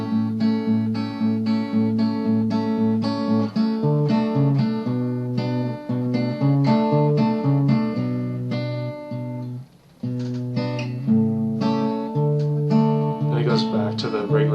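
Guitar playing the chorus of a song, steady strummed chords with clear sustained notes and a brief pause near the end, loud and close with no voice.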